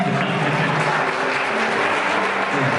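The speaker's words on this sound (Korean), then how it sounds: "여러분 큰 박수 부탁드립니다" Wedding guests at a Busan ceremony hall applaud as the bride and groom bow to each other, loud continuous clapping filling the whole stretch without pause.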